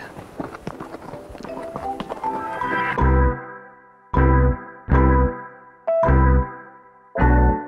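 A horse's hooves clip-clop on a trail ride in Colorado: a muffled patch of movement, then four or five loud, separate thuds with short gaps between them, close to the microphone.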